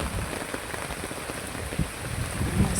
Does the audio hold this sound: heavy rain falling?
yes